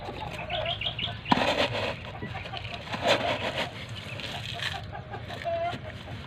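Chickens clucking in a busy yard, with scattered wing flaps and overlapping bird calls.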